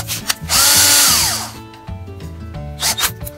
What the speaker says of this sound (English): Now I need to drill them with a 16th inch drill bit.